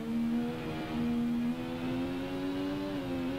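Motorcycle engine in the racing video game Ride, a steady mid-pitched drone that slowly rises in pitch as it revs, clean and continuous with no voices.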